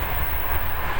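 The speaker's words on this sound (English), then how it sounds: "Like a train, not subway. Yeah. Like a train. Real. Yeah, a real train," A passenger train to Kutaisi, Georgia rolls along the rails with a steady, close rumble and a dense hiss from inside the carriage, continuous for the whole short stretch with no voices.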